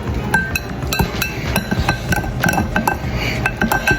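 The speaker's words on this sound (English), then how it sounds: "Whisk it." A whisk clinks steadily against a glass bowl while beating powdered sugar, milk and vanilla into a glaze for donut holes, with quick, irregular metallic taps close by.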